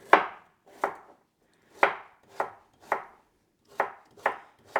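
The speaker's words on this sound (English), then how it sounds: "So I'm just gonna cut them into little batons. And then into cubes." A knife chops carrots on a cutting board, first into batons and then into cubes, in a home kitchen. Eight sharp, separate chops land at an uneven pace, each close and clear with a short knock, and no one speaks.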